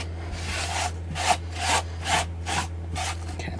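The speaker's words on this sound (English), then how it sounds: "After I've sanded them, I always like to go over them with a wet wipe just to get rid of the excess dust." Back-and-forth rubbing of a wet wipe over freshly sanded wood on a craft piece, about six evenly spaced soft swishes, close and clear with a steady low hum underneath.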